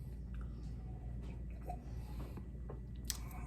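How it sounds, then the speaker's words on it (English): A hard cinnamon candy is sucked and crunched in the mouth, giving faint, close wet mouth sounds with a sharper crack near the end. "It's like a hard circle candy. You suck it in your mouth, it's on fire."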